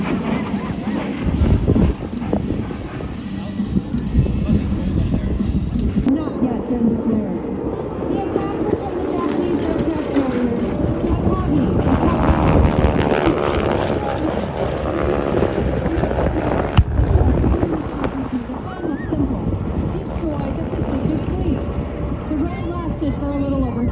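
A MiG-17 warbird jet flies a tight, high-G turn at an airshow, a steady broad roar that swells and holds throughout while an announcer talks over a public-address system.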